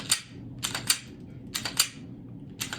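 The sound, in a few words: pistol slide racked back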